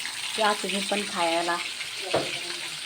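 Chicken 65 crackles in deep oil as a steady background hiss, while a person speaks clearly over it for most of the clip.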